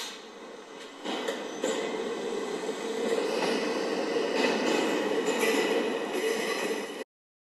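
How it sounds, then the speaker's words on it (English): A subway train in Roblox, a Q local, rumbles along steadily with a rising roar and faint rail clatter, continuous and fairly close, then cuts off abruptly. "This is the Halifax Parkway bound Q local train."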